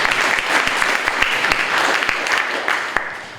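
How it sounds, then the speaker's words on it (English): Round of applause from an audience at a county solar-designation ribbon cutting ceremony, steady dense clapping throughout with scattered sharper claps, fairly loud and close, tapering slightly at the end. "So if we could give a round of applause to Doug also"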